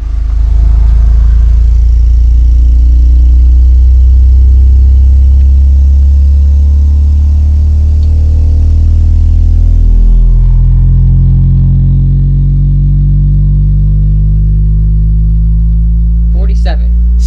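A 12-inch JL Audio subwoofer in a sealed box plays a loud, sustained bass sweep that drops in pitch partway through, droning continuously with a brief rattle near the end.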